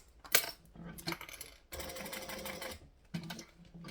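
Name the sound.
sewing machine stitching fabric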